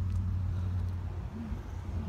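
A 2018 Genesis G80 Sport with a 3.3 liter twin turbo V6 idles nearby, giving a steady low engine hum with no speech over it.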